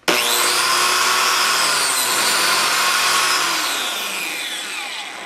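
A biscuit (plate) joiner spins up and cuts a notch into wood, a loud steady high-pitched whine with rough cutting rasp lasting several seconds, then slowly winding down as the trigger is released.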